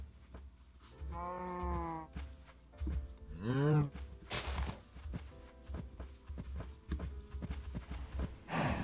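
Cows moo in the video game Minecraft, giving two drawn-out wavering calls close together, followed by a run of clicks and soft game noises.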